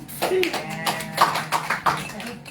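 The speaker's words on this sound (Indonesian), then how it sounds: "Tepuk tangan." Attendees at a fourth-anniversary thanksgiving service of GMI Imanuel church in Banjarmasin clap. The claps are sparse and uneven, a few at a time, and come in short bursts with voices mixed in.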